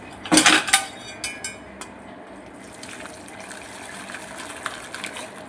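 Boiled ada rice flakes drained from a pot for a Kerala sweet payasam: a few sharp metallic clanks of the pot up front, followed by a soft, steady pour and trickle of water.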